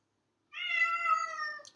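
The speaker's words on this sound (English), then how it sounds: "And that was my cat." A pet cat gives a single clear, drawn-out meow of about a second, close and loud in an otherwise silent room.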